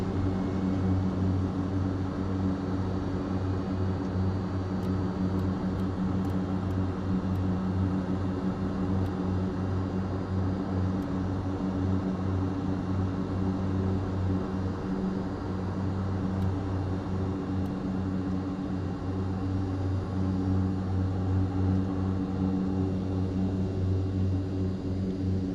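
Steady, continuous drone of a plane's engine in Microsoft Flight Simulator 2024, a constant tonal hum with an even level throughout and no voices.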